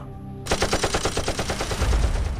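Sudden automatic gunfire erupts after a brief quiet moment, a rapid, loud, evenly spaced burst of shots that continues steadily to the end.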